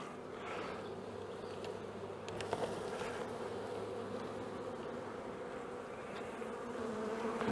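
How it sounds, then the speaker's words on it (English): A swarm of bees buzzes steadily and densely around a beekeeper working to get them off a fence and into a hive, a continuous close drone with no voices. "the bees are doing to attract up there the rest of the swarm into the hive"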